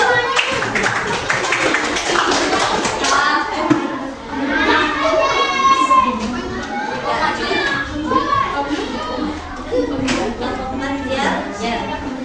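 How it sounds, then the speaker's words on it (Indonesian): Schoolchildren in a classroom clapping for a group called to the front, steady applause mixed with lively chatter and children's voices throughout. "Ayo, kasih tepuk tangan untuk kelompok 1."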